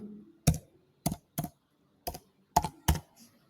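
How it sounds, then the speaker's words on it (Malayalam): PAN card details typed on a computer keyboard, six separate sharp key presses in an uneven rhythm, close and distinct against near silence, with no talk. "ഇവിടെ ഞാൻ പാൻ ഡീറ്റെയിൽസ് അടിക്കുകയാണ്"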